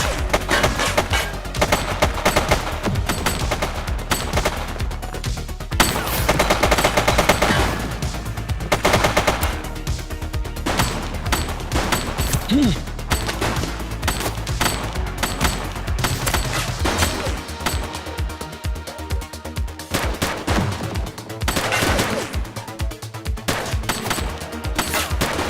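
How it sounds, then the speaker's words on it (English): Rapid automatic gunfire in The Precinct, loud, sustained bursts of shots that run for almost the entire stretch, with brief dips and sharp crashes breaking up the stream of fire. "She's shooting!"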